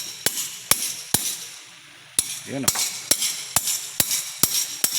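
Copper tube for piping struck with an improvised hammer gives about ten sharp metallic knocks in a loose, irregular rhythm, close and loud, with a brief pause partway and a voice speaking briefly between blows.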